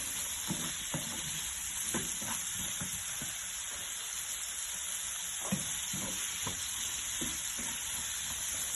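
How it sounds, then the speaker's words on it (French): Vegetables browning in a pan for couscous tabbouleh, a steady close sizzle and hiss with scattered soft spatula scrapes and pops throughout. "je vais laisser cuire, bien mijoter, bien rissoler"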